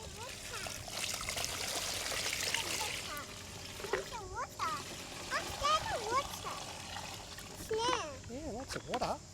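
Water runs through newly fitted drainage pipes on a freshly built Titan 3x3 shed, a steady trickling and pouring flow heard close up, while a child chatters and birds whistle over it.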